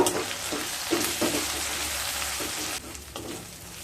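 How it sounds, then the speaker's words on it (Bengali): Spices with roasted cumin powder sizzle in a hot pan for a ridge gourd malai curry, a steady close frying hiss broken by scraping stirring strokes, with no talking. "এবার খুব ভালোভাবে কষিয়ে নেব।"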